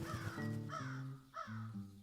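A crow caws from a tree in a Genshin Impact fable scene, two or three harsh, raspy calls in quick succession, fairly close and clear.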